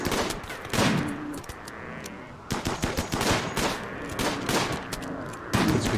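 Chain shotgun fire in RimWorld: repeated sharp shot bursts come in clusters across the span, some louder and closer, over a constant low battle wash, with no talking.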